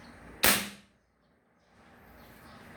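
A single sharp snapping shot from an Armscor air rifle, close and loud, fading quickly into quiet.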